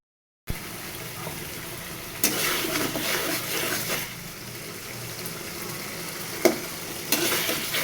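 Curry with a little gravy sizzles and bubbles in a pan, a moderate hiss with brief louder bursts of stirring and a splash of liquid, close by and without speech.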